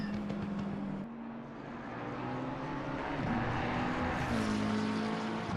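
A McLaren GT race car lapping Spa in Assetto Corsa Competizione, its engine a steady loud drone that rises and shifts pitch through gear changes, heard alone without talk.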